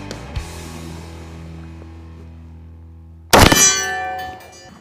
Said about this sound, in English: Ed and I are going to be shooting that silhouette target down there